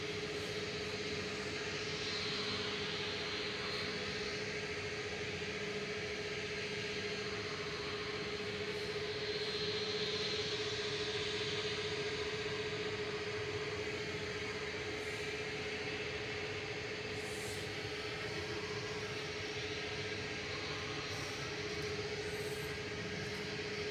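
Ryanair Boeing 737 MAX 8-200 departing Manchester Airport, its engines a steady, distant broadband roar with a constant tonal whine, holding level throughout without any talk.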